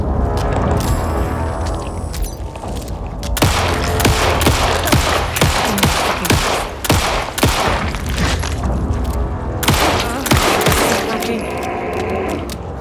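Dense, rapid video-game gunfire in Alan Wake 2, shots cracking in quick bursts over a constant bed of music and ambience, with a player talking over the action.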